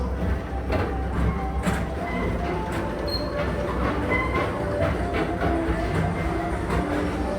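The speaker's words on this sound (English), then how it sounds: "your express train keeps on rolling through the future" The Tomorrowland Transit Authority PeopleMover ride train rolls steadily along with a continuous rumble and rattling clatter, occasional faint squeals and clicks over the track.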